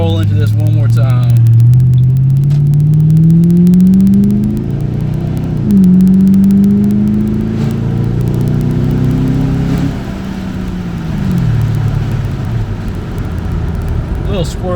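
A 2007 Ford Mustang GT V8 accelerates on a wet road, the engine note rising through several gear changes with loud cabin rumble and tyre hiss, while someone talks over it.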